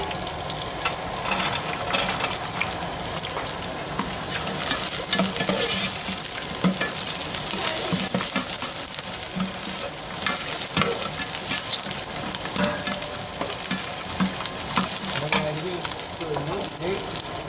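Chopped garlic sizzles and fries in hot oil in a pan while being stirred, a steady bright crackle with scraping spoon strokes throughout, near and loud, for a Kerala-style pickle.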